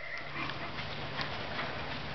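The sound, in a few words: horse cantering hooves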